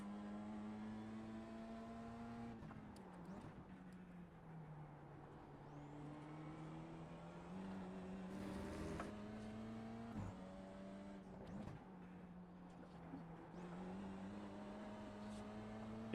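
A BMW M2 G87 race car engine in iRacing, a steady droning tone that climbs through the revs and drops at each gear change over and over, sustained and fairly even, with no talking.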